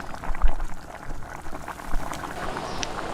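A pot of thick wam eel fish curry bubbling on the stove, with uneven gurgling pops and plops up close, no voices.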